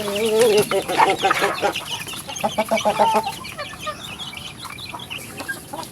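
Backyard pet chickens cluck and chatter at feeding time, several birds calling in quick overlapping bursts nearby that thin out toward the end, without talk.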